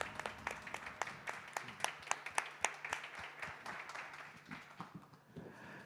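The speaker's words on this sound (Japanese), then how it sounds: "どうぞ大きな拍手でお迎えください" Sparse, fairly quiet applause from a small audience at the Super Formula NEXT50 project press event welcomes racing drivers, individual claps distinct and rhythmic before fading out.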